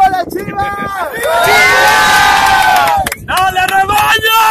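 Loud football crowd at a Chivas training session shouting and chanting in unison, sustained cheering voices with rising and falling swells, a brief dip near the end before the shouting resumes.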